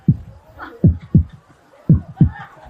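A heartbeat sound effect thumps in paired beats, loud and close, repeating in a steady lub-dub rhythm with a faint hum underneath.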